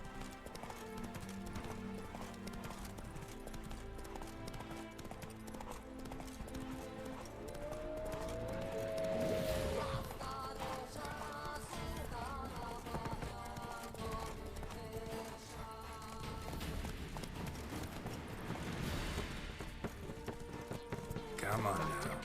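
Roach, the horse in The Witcher 3 video game, galloping with steady clip-clop hoofbeats under game music and effects, a brief whinny midway, while a person talks over it.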